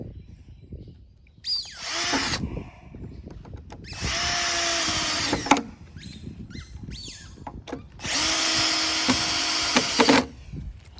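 Cordless power drill driving screws into a wooden raised garden bed frame: three separate whirring bursts, each ramping up and running steadily for a couple of seconds, with quiet pauses and faint handling noises between.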